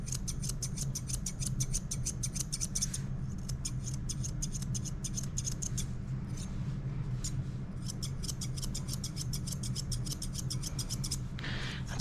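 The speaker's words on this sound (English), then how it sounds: "You can only go so short with thinners and scissors." Scissors snip steadily through a dog's fur during grooming, short after thinning shears, a dense rapid run of close crisp cuts that pauses briefly near the middle and continues to the end.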